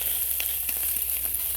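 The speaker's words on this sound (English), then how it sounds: "We've got some bacon on the go, some rolls" Bacon frying on a hot plate for rolls on a scorching day, with a steady close sizzle and scattered crackles and pops running throughout.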